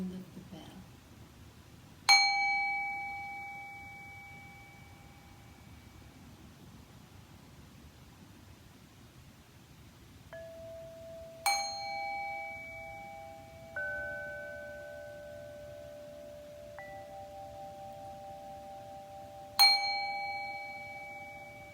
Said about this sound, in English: focus on the sound of the bell